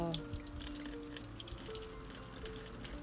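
Tap water runs over hairtail fish as the innards and black membrane are washed out, a faint steady splashing trickle over a low background hum.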